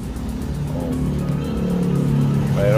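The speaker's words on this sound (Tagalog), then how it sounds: "Medyo na traffic siya dito. Pero tuloy-tuloy naman ang galaw ng mga sasakyan." Busy street traffic in Danao City, Cebu, with cars and motorcycles moving steadily past, a continuous engine rumble and passing whooshes, with faint voices in the background.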